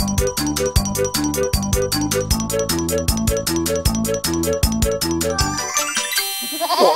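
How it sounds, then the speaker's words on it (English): Rapid, evenly pulsing bleats from goats at a dairy farm, a quick repeating rhythm loud and close for several seconds before breaking into a brief jangle of tinkling tones at the end. "Oh, look, they're goats."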